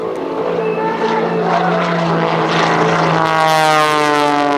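A Pitts S2B aerobatic biplane performing at a military air station airshow, its propeller engine droning loud and close with a strong harmonic buzz that rises and shifts in pitch as it maneuvers.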